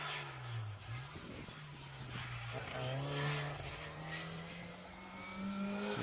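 A Morris Mini Cooper S rally car races along an asphalt stage on the Argyll Rally, its engine revving and changing pitch through the gears at moderate distance, while a commentator talks over it.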